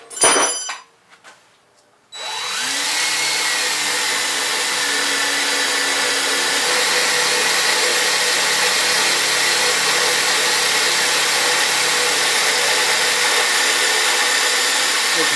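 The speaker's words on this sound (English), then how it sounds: "I'm using a 1032 drill and tap" After a few brief clatters, a power drill starts and runs at a steady high whine for a long stretch, loud and close, drilling a hole to be tapped with a 10-32 drill and tap.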